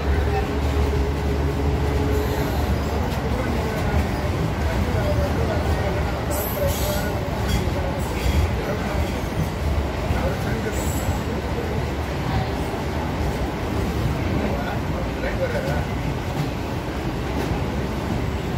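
A train rolls into Chengalpattu Junction with a steady, loud rumble of wheels and carriages that continues unbroken throughout.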